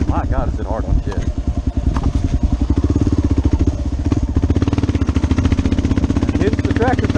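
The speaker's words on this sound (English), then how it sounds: "I'm in third gear, and all you gotta do is just keep feeding her fuel, and she'll keep on trucking." A KLR 650 motorcycle's single-cylinder engine thumps in a steady rapid beat while riding in third gear, loud and close. A person talks over it early on.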